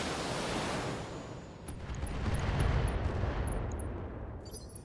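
Gunfire rattles through a BattleTech-style mech combat game, a steady hissing roar of rapid shots under a swelling low rumble, with a few faint tonal blips near the end.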